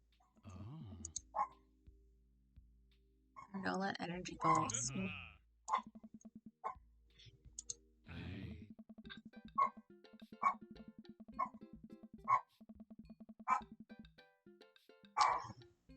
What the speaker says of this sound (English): Heard the dogs bark.